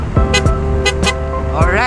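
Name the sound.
car horn being tested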